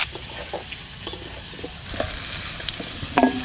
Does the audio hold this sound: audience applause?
no